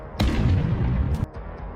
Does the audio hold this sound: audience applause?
no